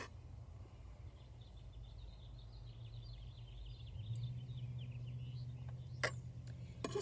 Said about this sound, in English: Just taking a deep breath and listen to the birds.